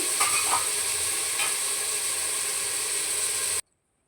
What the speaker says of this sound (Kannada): ಟೊಮೊಟೊ ಹಾಕ್ಬಿಟ್ಟು ಚೆನ್ನಾಗಿ ಬಾಡಿಸ್ಕೊಬೇಕು.